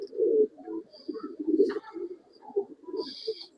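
Old-line pigeons held for sale in Bangalore coo softly and steadily, low throaty murmurs overlapping one another at close range, with a few faint higher chirps and calls in the background.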